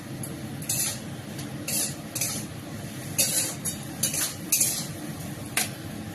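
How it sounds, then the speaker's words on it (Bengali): Fried okra tipped into a pan of cooked-down spice masala, with repeated clinks and scrapes of a utensil against the pan over a low, steady hiss. "এবার এই ঢ্যাঁড়সটা দিয়ে দেবো, যেটা আমি তেলে ভেজে রেখেছিলাম।"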